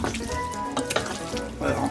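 Chicken and curry powder sizzle and fry in a pan while being stirred, a steady crackle with scraping stir sounds, close and fairly loud, with no talking.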